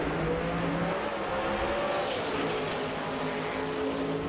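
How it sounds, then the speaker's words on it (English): A 1969 Firebird and a Corvette sit on a drag strip's starting line in the Outlaw 632 final round, their engines producing a loud, steady, droning rumble with no talk. "a 69 Firebird locked and loaded on the starting line"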